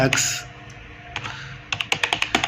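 Keys clatter on a computer keyboard as text is typed, an opening cluster of strokes, a pause, then a quick rhythmic burst of about eight close, crisp clicks.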